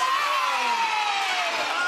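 Studio audience at a children's TV show cheering, a continuous loud wash of high children's voices shouting and whooping together for the full moment.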